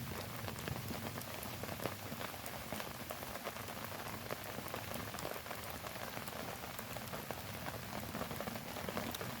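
Rain falls outdoors during a small storm, a dense, even patter of drops on surfaces forming a constant close hiss with tiny ticks, alone and steady throughout.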